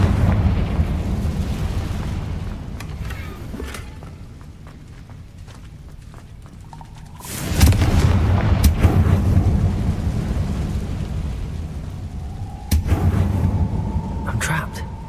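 In the Hogwarts Legacy video game, Confringo fire spells burst with deep rumbling booms, one midway and another near the end, each followed by a lingering roar, with quieter footsteps and game sounds between.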